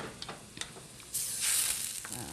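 Clam juice poured into a very hot pan on a high flame, with light clinks and then a sudden loud hissing sizzle that swells and holds near the end, with no voices.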